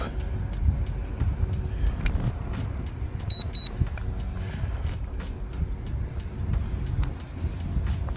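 A short pair of high electronic beeps from an RG101Pro GPS drone transmitter during gyro calibration rises over a steady low wind-like rumble and background noise.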